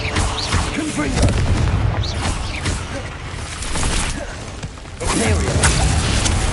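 Confringo fire spell explosions in Hogwarts Legacy, sounding as dense, continuous booming blasts and whooshes layered over game action and muffled voices.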